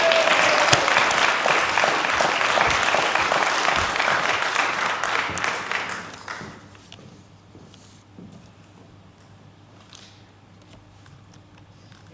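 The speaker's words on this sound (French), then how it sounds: "Sans plus tarder, nous allons acclamer la belle Léa Coignard, ici." An indoor audience at a political rally in Val-de-Reuil applauds loudly and densely for about six seconds, then the clapping drops away to a quiet room with a low hum and a few scattered sounds.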